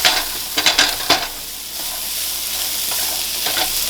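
Celery and red chillies being stirred in a hot pan for Singapore-style noodles: a few quick scraping strokes at the start, then a steady close sizzle continuing alone with occasional light scrapes.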